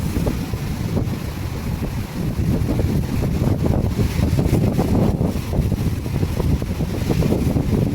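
Steady roar of wind and surging sea waves around a moving fishing boat, loud and continuous throughout with no voices.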